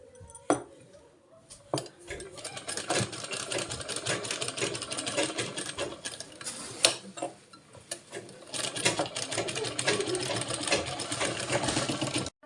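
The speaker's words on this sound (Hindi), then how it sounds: "मैंने चारों तरफ से सिलाई चला लिया है" A sewing machine stitching a boat-neck blouse runs in quick mechanical bursts, whirring and clattering near at hand with brief pauses between runs and no talk.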